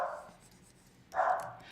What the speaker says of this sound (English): my in-law's dog is barking